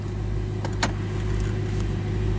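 A supercar engine idles steadily with a low, constant rumble, and a couple of brief higher clicks or knocks break through partway.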